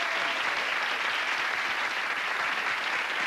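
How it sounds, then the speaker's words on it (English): A studio audience at a 1988 television talk show breaks into dense, sustained applause, with many hands clapping together in a loud, even wash and no voices above it. "Please give them a round of applause for appreciation."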